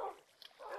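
A dog yips and whimpers faintly in a blocky video game world, short high cries that rise and fall over a soft background hum.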